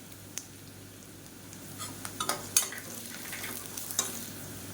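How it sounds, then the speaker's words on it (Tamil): Onion, dried red chillies and crushed garlic frying together in a pan, a steady soft sizzle with a handful of sharp spatula scrapes and clinks, close and moderately quiet, no one speaking. "வெங்காயம் நல்லா பொன்னிறமாக வதங்கட்டும்"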